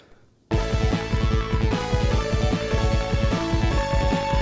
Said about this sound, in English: All Genesis music sort of has the same timbre to it.